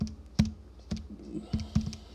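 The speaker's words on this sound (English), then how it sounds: "take your calculator and type it in properly" Calculator buttons pressed during a maths example using the ln key, giving a handful of sharp, close plastic clicks spaced irregularly over a quiet background.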